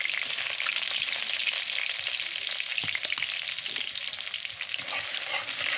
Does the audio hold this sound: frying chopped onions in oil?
yes